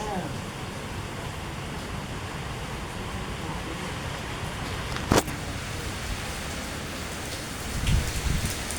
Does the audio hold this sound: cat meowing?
no